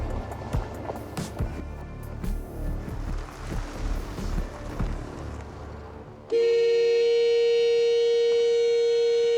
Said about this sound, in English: This horn sounds great, right?